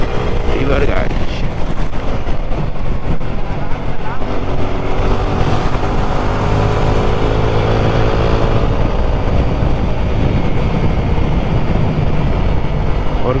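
Motorcycle riding down an empty highway in fourth gear at high speed, with loud steady engine drone and roaring wind rush throughout, close and continuous.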